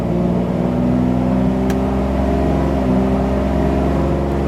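Mercedes SL600 engine held steady at about 2000 RPM, a loud, continuous mid-pitched hum with stable harmonic tones and no talk.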